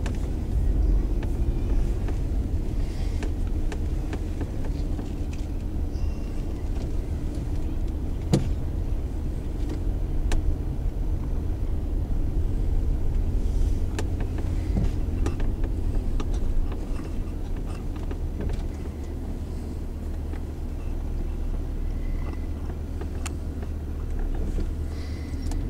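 A car rolls slowly around a kids' park in Everett during a get-together, its steady low engine and road rumble continuous and close throughout, with no talk.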